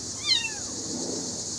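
A young kitten gives a single thin, rising-then-falling meow, close and clear, followed by quiet room noise with a steady background hiss.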